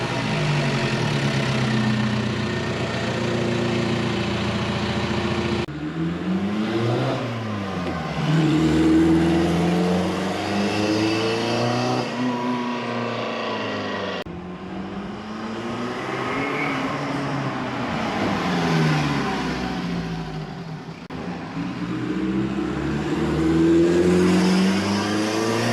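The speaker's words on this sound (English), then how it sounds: "the exhaust and engine is so loud you can't hear it once it's running." A Mercedes 190 runs with a loud exhaust, heard close through several rising and falling revs and gear changes as it drives, its raspy tone surging between steadier cruising stretches.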